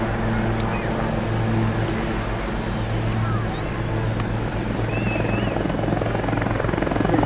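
A Royal Navy Wildcat helicopter flies a display at the Bournemouth Air Festival, its steady rotor and turbine drone continuous and loud from start to finish, with wind and crowd-type background noise along the coast.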